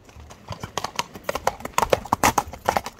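Horse hooves clip-clop steadily at a race event, a quick run of sharp, close hoofbeats that is loud and clear, with faint voices in the background.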